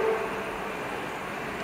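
Indore metro train on a trial run, a steady rumbling rail noise that holds at an even level throughout, with a brief tonal hint near the start and no speech.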